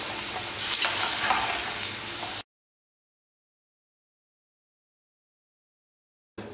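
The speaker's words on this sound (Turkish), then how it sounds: "Sonuncu kızaran patateslerimi alıyorum." Potatoes sizzling and crackling in hot oil, a steady close frying hiss lasting a couple of seconds before the sound cuts to silence and briefly returns at the end.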